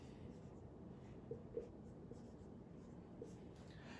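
Pen or marker writing on a board during a maths lecture, a soft steady scratching with a few faint taps, alone under a quiet room hum.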